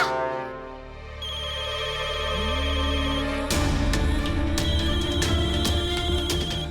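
A mobile phone ringtone plays loudly and close, a melodic tune that grows busier partway through, with no one speaking over it.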